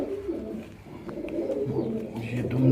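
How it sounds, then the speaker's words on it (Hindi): A fantail pigeon coos up close, giving soft, low, throaty coos that repeat unevenly. "मुझे बहुत पसंद है दुम चीर कबूतर"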